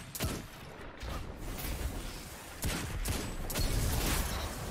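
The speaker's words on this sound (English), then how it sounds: "Oh, I traded with a grenade launcher though." Grenade launcher fire in Destiny 2, with repeated thumping blasts and explosions spread across a loud, continuous game soundscape.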